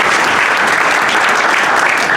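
Loud, dense applause from the crowd at a boxing promotions press conference, a continuous roar of clapping at a steady level with no voices over it.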